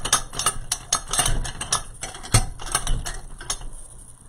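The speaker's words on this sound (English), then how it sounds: "My pick machine is still being temperamental." A floral pick machine running while working on a grapevine wreath, giving off close, repeated mechanical clicks and ratcheting clacks in an uneven rhythm over a steady motor hum.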